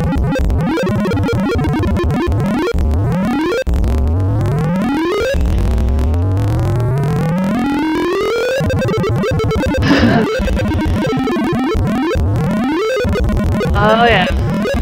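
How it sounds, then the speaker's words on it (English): A computer sorting algorithm is sonified as 1960s-style generated tones, with rapid streams of electronic beeps sweeping up in rising runs and resetting again and again, loud and continuous for the whole stretch. "So you definitely get the kind of 1960s, sound tone generation there."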